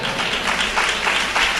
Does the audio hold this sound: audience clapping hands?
yes